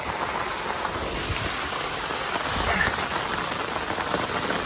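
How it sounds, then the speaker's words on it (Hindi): Heavy monsoon rain pours across a college campus in Bilaspur, a loud, constant hiss of drops hitting surfaces, with a faint low rumble underneath. "ऐसी बारिश में भी जाना पड़ रहा है ऐसे भीग के।"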